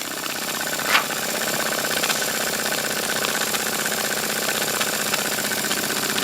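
A Cotswold Heritage Cirrus beam steam engine runs warm with a steady, even chuffing hiss of exhaust steam and a faint rhythmic mechanical knock, one brief louder puff near the start.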